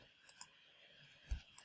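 A few faint, quick computer mouse clicks, spaced apart in a quiet room, with one slightly louder click near the end.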